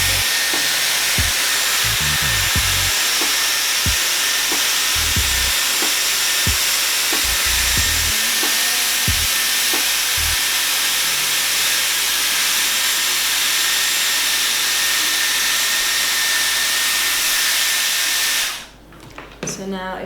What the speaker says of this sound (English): I'm going to do it on the high heat and high setting